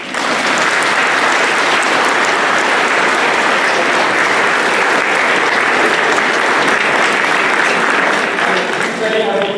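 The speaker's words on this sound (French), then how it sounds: "On va vous applaudir encore." A church congregation applauding during a baptism mass, sustained loud clapping from many people that fills the space evenly, continuing strongly for nearly ten seconds.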